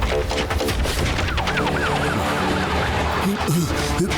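A police siren wails up and down close by, rising and falling over a rumbling vehicle and background noise.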